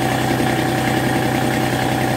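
A tractor engine idles steadily and close by, a loud, even, vibrating low rumble with a fast regular pulse throughout, no voices.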